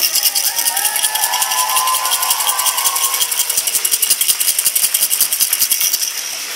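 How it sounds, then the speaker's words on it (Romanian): A festive university course audience stands and applauds using noisemaker toys, producing a steady rapid rattling clatter mixed with clapping that grows denser, then eases off at the end. "să-l aplaudăm în picioare folosind jucărioarele"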